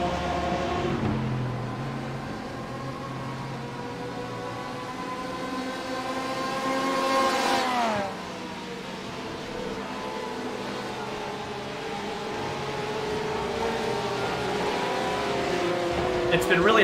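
PROCAR GT series race cars circling a track at night, engines droning loud and steady with rising and falling pitch as a tight pack passes, one car sweeping by around the eighth second, while a commentator talks over the engines throughout.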